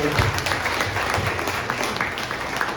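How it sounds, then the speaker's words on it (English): Audience applause fills a meeting room at a homeless coalition gathering, steady clapping from many hands throughout at moderate loudness, with a few faint voices underneath. "Please give a clap."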